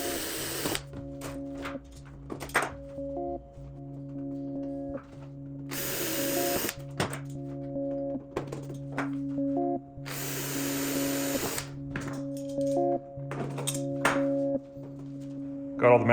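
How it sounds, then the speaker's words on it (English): Electric drill match-drilling aluminum ribs on a RANS S-21 aircraft aileron, heard as repeated whirring bursts with steady motor tones, a few longer high-pitched drilling runs alternating with short pauses and handling clatter. "I'll go ahead and get this match drilled."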